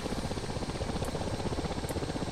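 Ka-50 Black Shark coaxial helicopter rotor in the DCS World flight game, a steady dense rumbling wash with fast rhythmic beating, loud and continuous with no talking.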